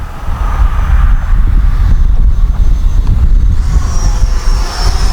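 Arrows RC Viper 50mm electric ducted-fan model jet flying in strong wind, a steady airy whoosh and whine under heavy buffeting wind noise, with a higher whine rising near the end as it passes closer.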